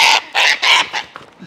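A wild cockatoo gives four loud, harsh squawks in quick succession, close by, followed by a couple of short, fainter calls.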